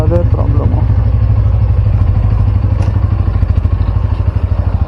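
A motorcycle on the move, close and loud, its engine thrumming steadily with a rough pulsing rumble throughout.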